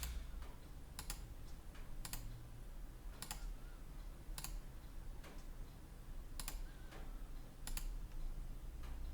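Sharp mouse clicks repeat every second or so, sometimes in quick doubles, over a low steady background hum; no one speaks.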